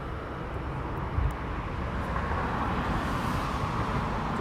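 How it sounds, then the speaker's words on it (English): A Ryanair airliner landing at East Midlands Airport, heard from the perimeter fence as a steady, broad jet roar with a low rumble that stays fairly even throughout. "I believe that might be a Ryanair just landed"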